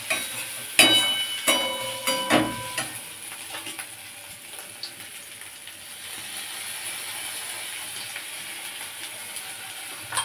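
Ginger and garlic paste frying with chicken for chicken kosha begins with a burst of metal spoon clatter against the pan, then settles into a continuous close sizzle.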